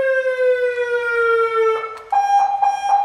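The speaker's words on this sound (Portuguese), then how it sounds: "Tem a sirene." A loud electronic car siren tone holds steady, then switches to a higher pitched pulsing wail, close and alone with no voices.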